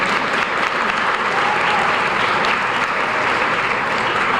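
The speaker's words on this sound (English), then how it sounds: "Can we give them all a round of applause?" An audience at a Women of Action 2014 ceremony gives a round of applause, dense, loud and steady clapping from a large crowd filling the whole stretch without a break.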